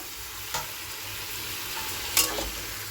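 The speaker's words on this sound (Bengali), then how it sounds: "এখন এর মধ্যে টমেটো লঙ্কা একটু পেঁয়াজ এই পেস্টটা দিয়ে দিলাম দিয়ে এবার একটু কষিয়ে নেওয়ার পালা" A paste of tomato, chili and onion sizzles steadily in a pan, with a couple of sharp stirring scrapes breaking through the constant frying hiss.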